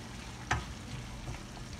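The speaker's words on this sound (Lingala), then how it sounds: "Nazokende kokalinga yango pe." Pork frying in a pan in a home kitchen, a soft steady sizzle with one sharp clack or stir near the middle.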